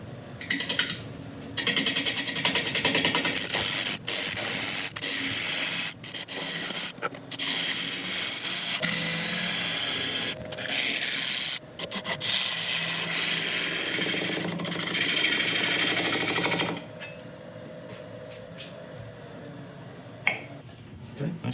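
A wood lathe spins at about 600 RPM while a freshly sharpened half-inch ball gouge cuts the workpiece, giving sustained loud rasping and hissing with brief pauses, then a quieter steady hum near the end.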